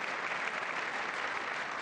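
Steady applause from a large chamber audience at the State of the Union address, a continuous even wash of clapping at moderate distance with no voices over it.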